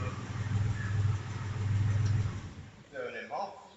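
A Porsche engine runs at a steady idle with a low, continuous hum that fades near the end as the car is switched off.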